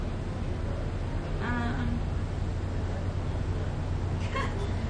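A cat meows a couple of times, short and fairly close, over a steady background hum.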